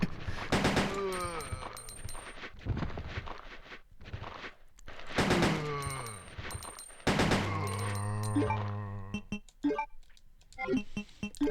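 Gunshots in Resident Evil 2 ring out as a few loud, sharp cracks spaced apart, mixed with game sounds and someone speaking between them.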